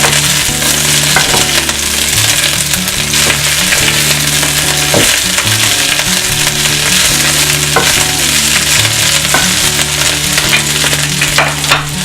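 Green vegetables sizzling hard in a hot pan, a loud, dense, continuous fry with occasional crackles and scrapes of stirring, close up and with no talking.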